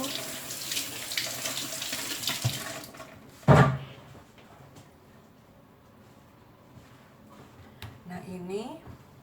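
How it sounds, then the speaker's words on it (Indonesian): Hands are washed under a running kitchen tap while cooking, with water splashing steadily into a sink and then cutting off with a clunk. Quieter trickles and a voice follow. "Kita cuci tangan dulu."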